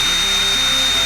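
A power drill runs with a 1/8 inch bit, drilling a pilot hole while a snorkel is fitted to a Toyota 4Runner. It makes a continuous loud whine with a steady high tone, heard up close and alone.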